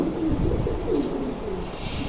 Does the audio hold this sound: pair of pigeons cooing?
yes